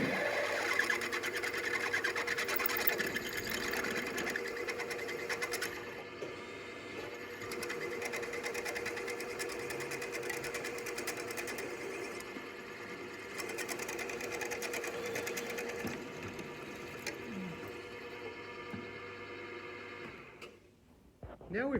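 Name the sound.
drill press drilling a hole in a head bolt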